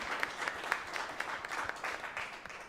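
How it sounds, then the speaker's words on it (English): An audience at a future-of-work event claps for a speaker, a short patch of moderately faint, uneven applause with individual claps standing out. "you're applauding me now"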